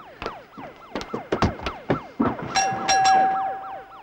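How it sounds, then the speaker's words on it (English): A police car or ambulance siren wails loudly in a rapid, repeating up-and-down sweep, joined partway through by a steady high tone, close by with no voices. "That's either the police or an ambulance come to take me back"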